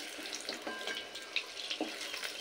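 Pointed gourd (potol) fries in hot oil with a soft, continuous sizzle. Small pops and crackles come close by over a short stretch.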